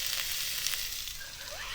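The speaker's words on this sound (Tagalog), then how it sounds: "Ito na yung sinigang natin at kumukulo na siya." A pot of sinigang broth with miso bubbles and hisses at a rolling boil outdoors at a beach campsite, a steady close sizzling wash with no talking.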